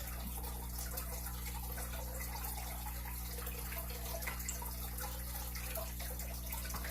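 Steady running water from an aquarium filter, a continuous close trickle and splash with a low constant hum underneath, no voices.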